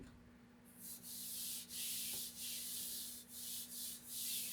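Fiberglass is sanded by hand with 1000-grit sandpaper in steady back-and-forth strokes, a soft close hiss that swells and dips about six times in rhythm over a faint constant hum, with no talking.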